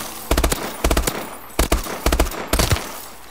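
An ARX 160 rifle in Call of Duty: Advanced Warfare fires four sharp three-round bursts in quick succession, each a tight cluster of loud, close cracks separated by brief pauses.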